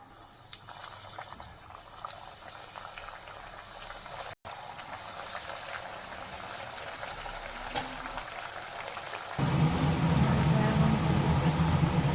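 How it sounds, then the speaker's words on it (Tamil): Bread cutlets deep-fry in hot oil over medium heat, giving a steady bubbling sizzle that swells noticeably louder and fuller near the end. "இப்போ எண்ணெயில் போட்டு பொரிக்கலாம். எண்ணெய் காஞ்சிருச்சுங்க."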